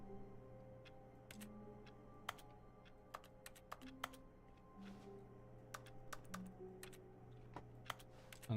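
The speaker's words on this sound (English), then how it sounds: "I'm clicking keyboards like this." Close computer keyboard clicking: quick, light key presses in irregular bursts over a low steady hum, no voices.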